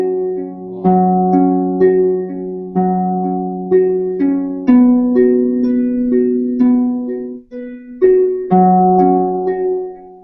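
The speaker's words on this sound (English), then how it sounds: "Like this is a harp. You can hear the track of the harp." A harp track from a music production plays alone, plucked notes arriving in clear repeating arpeggiated phrases with ringing decays, bright and close.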